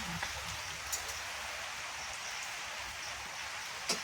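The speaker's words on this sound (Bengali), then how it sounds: "আর বৃষ্টিটা আবার এলো" Soft, continuous rain patters in a steady hiss, faint and even, with a few small taps now and then.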